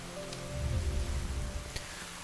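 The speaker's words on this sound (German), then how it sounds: "Hallo Regen. Wo bist du? Da." Rain in the video game Deiland patters softly in a steady wash, with a faint sustained tone and a couple of brief clicks over it, no speech.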